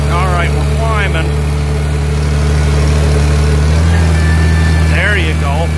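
A gas International tractor engine runs steadily and loud, its low drone carrying a high whine from the torque amplifier, while someone talks over it at intervals.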